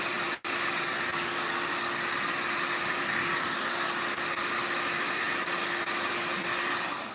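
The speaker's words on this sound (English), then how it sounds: "Keep the dryer pointed down." A hair dryer blows steadily and close during a blow-out styling of a girl's hair, with a continuous broadband whoosh and a motor whine. The airflow dips briefly near the start and then runs unbroken.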